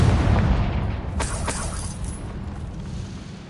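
A fiery blast spell in Hogwarts Legacy detonates with a deep boom and sharp cracking pops, its rumble trailing off over a few seconds without speech.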